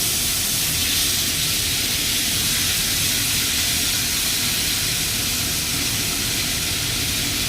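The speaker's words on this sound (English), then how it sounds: "So whilst I'm holding these and they're frying up" Food frying in a hot pan for fried rice with thinly sliced hanger steak: a loud, steady, close sizzle that hisses without a break from start to finish, with no voices.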